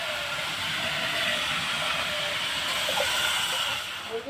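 Mushroom masala with potatoes fries in a pan with a steady close hiss and sizzle that holds for about four seconds before easing slightly at the end.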